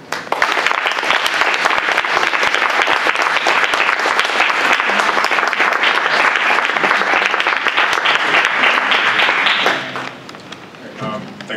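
Audience applause at a 2015 poetry reading, dense steady clapping from a crowd that holds for about ten seconds before thinning out to a few scattered claps.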